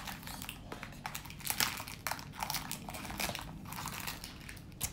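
Plastic wrapping on a tube from an unboxing package crinkles and crackles nearby, a steady stream of close rustling and crumpling noises with no talk.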